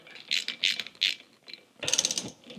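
A ratchet runs hub bolts into the front axle of a Scout restoration, heard as a few close, loud bursts of rapid pawl clicking with short pauses between them.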